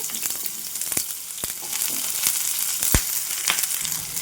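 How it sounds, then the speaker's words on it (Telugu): Chopped onion and green chili pieces sizzle steadily in hot oil, with a constant close hiss broken by sharp crackles and spatters, while a spoon occasionally scrapes the pan. "ఈ ఉల్లిపాయ పచ్చిమిరపకాయ ముక్కల్ని కాస్త ఫ్రై చేసుకోవాలి"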